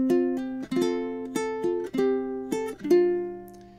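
A fingerpicked ukulele picks out a short melody from a song, single notes ringing clearly with a few chords, at a gentle, unhurried pace and no talking.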